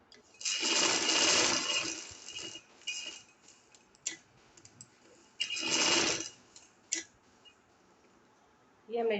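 A sewing machine stitches lace onto a fancy shirt in bursts, with two longer runs of close whirring and brief clicks and ticks between them, while a voice talks in between.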